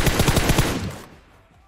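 Rapid bursts of automatic gunfire in PUBG Mobile on the Sanhok map, a quick string of loud close shots over about a second, then a decaying tail into near silence.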